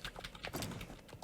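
Horse hooves clip-clopping in the Star Stable video game, a quick run of light, evenly spaced hoof taps at close range with no talk over them.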